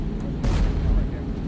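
A single heavy boom as an AC-130 round strikes a T100 tank in the Arma 3 video game, with a sharp burst that fades into a low rumble, and voices around it.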